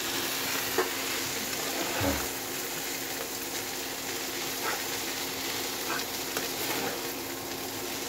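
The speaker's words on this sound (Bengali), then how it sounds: "অনেকগুলো নুডলস, তাই ও ভালোভাবে নাড়তে পারছিল না, আমি নেড়ে দিচ্ছি।" Noodles fry in a pan with a steady, close sizzle as a utensil stirs them, scraping now and then against the pan, continuous throughout with no talk.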